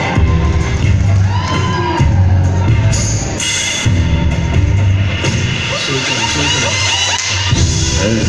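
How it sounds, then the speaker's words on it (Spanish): A quinceañera party crowd cheers and whoops over loud amplified music, shouts and celebration noise carrying continuously throughout. "Aplauso para ella."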